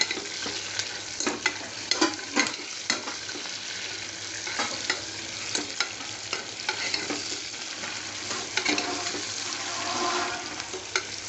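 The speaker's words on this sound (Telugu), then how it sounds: "కలుపుకుందాం" Onion and curry leaf masala for stuffed brinjal curry sizzles in a pan while a spoon stirs it, giving a steady close frying hiss punctuated by frequent scraping and tapping strokes.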